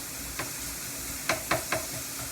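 Steak strips sizzling on a hot griddle for a Philly cheesesteak, a constant frying hiss with a few sharp scraping stirs of a spatula near the middle, close and alone without talk.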